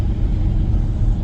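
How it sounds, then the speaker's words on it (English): Car driving on the road to work, a steady loud low rumble of engine and road noise from inside the cabin, no talking. "Just driving to work here."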